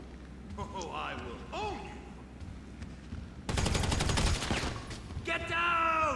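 Rapid bursts of gunfire in GTA V Online gameplay, a dense loud volley of repeated shots in the middle of the clip, with someone talking excitedly before and after.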